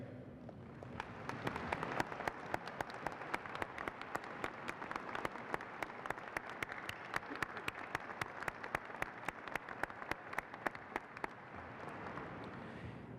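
Audience at a spring university commencement ceremony applauding the standing faculty, a steady wash of many hands clapping that holds at a moderate distance for the whole stretch, with a sparse regular tapping running through it.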